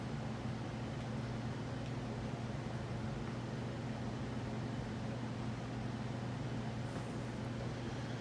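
A Crompton Greaves High Breeze 42-inch ceiling fan running at medium speed gives off a steady, even whooshing rush of air with a low constant hum, unchanging throughout and fairly quiet.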